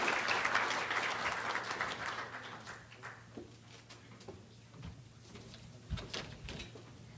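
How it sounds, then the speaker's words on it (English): Audience applause at a ceremony honoring Native American graduating seniors, steady clapping that starts full and gradually thins, moderately distant and fairly quiet. "Let's give her a big round of applause"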